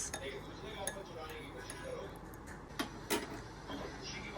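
A spoon clinks against a small glass while a summer drink is stirred, giving a few light, scattered taps close by over a steady background hiss.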